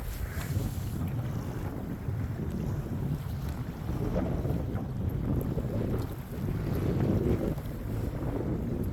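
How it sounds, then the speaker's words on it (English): Wind buffets the microphone and waves slap and wash steadily around a Native Titan 10.5 kayak on Chesapeake Bay near Breezy Point, Maryland, a continuous loud rushing roar with surging gusts and no speech. "That's how the wind and wave. Right there on the bay."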